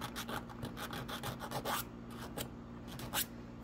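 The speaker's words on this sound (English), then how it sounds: "Now, I'm going to take a little square file." A small square file rasps back and forth on metal, cleaning contact surfaces on a model train truck, with short repeated scraping strokes heard close up over a low steady hum and no speech.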